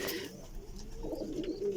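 Red pari pigeons in a breeding setup cooing softly, a few low throaty coos close by at a faint level against a quiet background.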